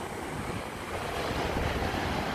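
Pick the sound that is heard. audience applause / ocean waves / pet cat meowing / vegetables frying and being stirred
ocean waves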